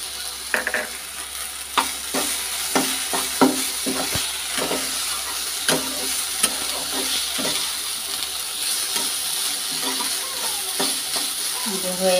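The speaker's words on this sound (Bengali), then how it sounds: "এখন তিল দিয়ে দেবো। ভাজা তিলটা দিয়ে দিচ্ছি।" Dhenki greens stir-fried with turmeric and roasted sesame in a pan give a steady sizzle broken by repeated scraping and knocking of a spoon against the pan, close and ongoing.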